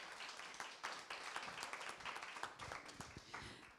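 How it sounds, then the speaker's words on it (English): Audience applause at a culture and language event, fairly faint and somewhat uneven, with individual claps standing out from a loose crowd of hands over a few seconds. "Assel, can you hear our applause?"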